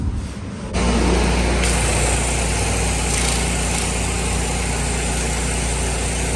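A pressure washer engine runs loud and steady while an awning is rinsed, a constant close drone that starts after a brief quieter moment.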